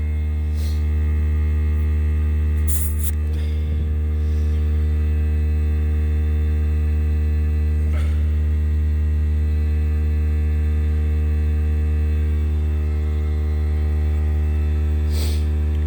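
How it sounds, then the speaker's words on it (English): An air compressor for topping up the tires of a 1990 Chevy 1500 runs continuously as a loud, steady droning motor hum, with a few faint clicks along the way. "I'll let it my air compressor pick back up and see what it's at right now."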